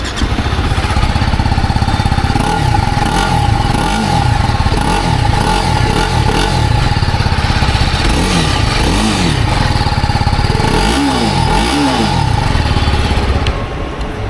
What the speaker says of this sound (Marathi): तर आहे बाईकचा एक्झॉस्ट साऊंड